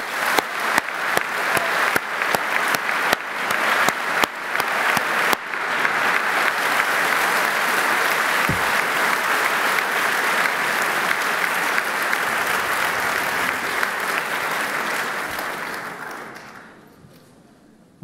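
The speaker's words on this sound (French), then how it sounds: "je voudrais qu'une salve d'applaudissements vienne saluer votre belle réussite" Graduates at a commencement day ceremony receive a long round of applause, starting with a few distinct claps, building into a dense sustained ovation, then tapering off over the last few seconds.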